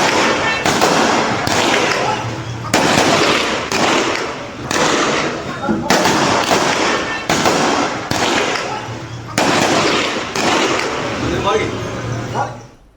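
Gunfire from the Pakistani army in Pakistan-occupied Kashmir comes in about ten loud, close bursts of cracking shots separated by brief gaps, with some low thuds between them.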